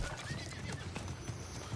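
A video game horse snorts and whinnies while its hooves clip-clop in a steady trotting rhythm, close and fairly loud against a busy background.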